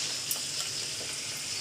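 Fish pieces frying in oil with cumin and fenugreek, a steady close hiss of sizzling with small crackles and pops, no voices.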